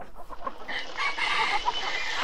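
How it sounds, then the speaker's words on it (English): Chickens clucking and chattering together at close range, a busy, continuous flock sound with no talking. "at least the chickens are happy"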